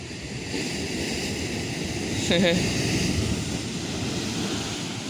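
Ocean waves surge up into a coastal blowhole at Étang-Salé on Réunion, a loud, continuous rushing roar with wind buffeting the microphone and a brief swell midway.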